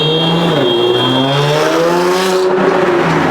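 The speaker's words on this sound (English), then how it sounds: "They always race their cars, little putt-putts and everything." Small cars race along Fordham Road in the Bronx, engines revving loudly with rising and falling pitch as they accelerate and pass close by, no voices over the roar.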